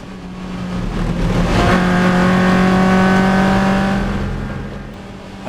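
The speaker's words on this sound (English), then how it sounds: "at this point the BMW very casually comes past me" Race cars on track at Anglesey, a BMW drawing past a Lotus: a loud sustained engine drone with a strong steady tone swells to a peak and slowly fades, close and continuous, with no speech.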